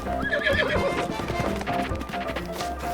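Horse hooves clip-clop in a steady run while the horse neighs and whinnies, in the video game Zelda: Breath of the Wild, loud and close over game music.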